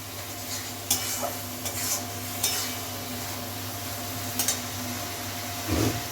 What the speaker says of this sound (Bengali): ভালো করে এটাকে ভাজতে হবে, নাহলে কাঁচা গন্ধ থেকে যাবে।